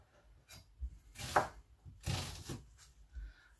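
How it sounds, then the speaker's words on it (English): A few quick knife chops through onions land on a cutting board, some in short bursts, close and fairly quiet with no talking. "roughly chop these onions."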